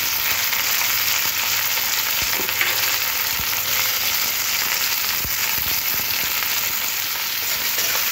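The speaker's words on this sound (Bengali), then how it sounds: "গোল্ডেন কালার আসা অবধি পেঁয়াজটাকে ভাজতে হবে" Three medium sliced onions frying in hot oil for a home-style Bengali chicken curry, a steady loud broadband sizzle with occasional crackles and faint stirring clicks throughout.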